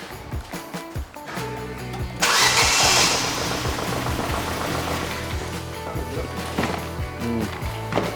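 A Ford Fiesta sold with a mechanical fault turns over with clicking and cranking, then fires into a loud, busy running rumble that continues steadily, recorded up close.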